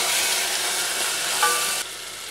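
Onion and tomato sauté in a pan with a steady, close broadband sizzle throughout, a faint brief clink near the middle, and the hiss dropping slightly in level toward the end.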